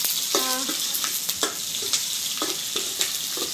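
Steady sizzling and bubbling of fish curry boiling in a pan, close and continuous, with light clinks of a utensil at intervals.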